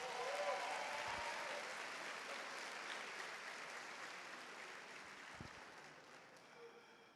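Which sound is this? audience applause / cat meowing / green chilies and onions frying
audience applause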